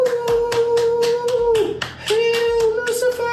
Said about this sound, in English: So let's give a round of applause for the court.